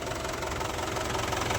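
A tractor engine idles steadily beside a river where the tractor is being washed, a close, continuous low rumble with a knocking throb that holds even throughout.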